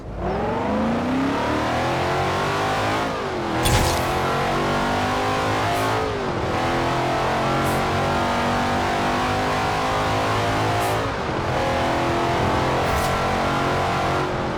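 A car engine in the Forza Horizon 4 racing game revs hard and accelerates, climbing through gears with brief dips at each shift, loud and continuous with no talk.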